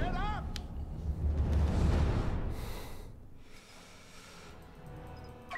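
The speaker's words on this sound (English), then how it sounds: "That explosion." Explosion in the Star Wars Battlefront II video game, a loud, rumbling low blast that swells and then slowly dies away, with faint voices over the tail.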